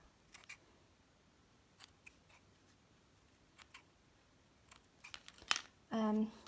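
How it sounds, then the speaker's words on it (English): Scissors snipping points into a piece of felt for a doll or teddy hair accessory, a few faint separate snips spread out, then a louder closer burst of cutting near the end. "if you just cut a couple of points, try and keep it even as you're cutting"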